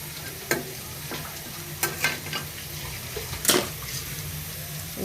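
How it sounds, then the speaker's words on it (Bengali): Kalmi greens with fried chili sizzle in a pan, a steady low frying hiss punctuated by several sharp stirring scrapes and clinks. "যেমন মরিচটা ভাজা গেছে শাক ধরে দিব।"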